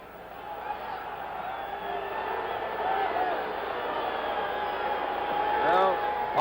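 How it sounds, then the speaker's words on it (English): Stadium crowd at the Oakland Coliseum during a Monday Night Football game between the Jets and the Raiders: a steady, broad roar of a partisan crowd, swelling slightly and holding throughout with no break. "partisan crowd here at the Oakland Coliseum"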